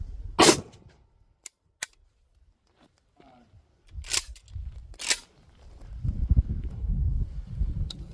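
An AK rifle firing 7.62x39 3D-printed sabot rounds outdoors, a few sharp separate reports spaced seconds apart, with low rumbling handling noise and wind between shots.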